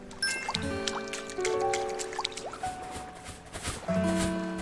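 A water tap drips in a cute farming video game with horror undertones, a run of close plinking drops with pitched watery tones over several seconds, no speech.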